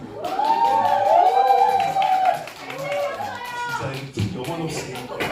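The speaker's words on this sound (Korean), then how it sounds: "억지로 치는 박수 감사하게 듣겠습니다" Light applause from an audience at a book concert for social workers, a loose patter of claps running under a man's speech and a few scattered voices.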